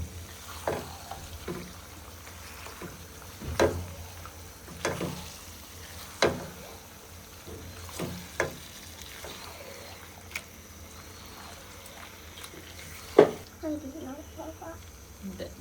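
Mutton curry with chui jhal is stirred as it fries in a pan, a soft continuous sizzle broken by several distinct scraping strokes and knocks of the spoon, with faint voices at the close.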